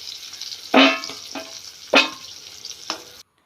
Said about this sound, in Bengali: এই দেখো মাছগুলো লাল লাল করে ভাজা হয়ে গেছে